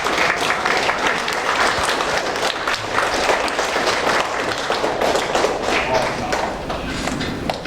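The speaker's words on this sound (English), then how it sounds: "can all those candidates stand and we can give them a clap?" Steady applause from a crowd, dense clapping filling the whole stretch at a constant level with no pauses.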